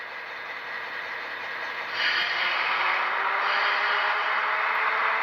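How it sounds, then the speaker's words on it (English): Dynamic brake effect from a Scale Trains GTEL 8500 'Big Blow' turbine model locomotive with Loksound DCC sound: a steady airy hiss that swells noticeably louder after about two seconds and holds, heard alone with no talking. "Really nice dynamic brake, one of the best, or the best I've heard actually."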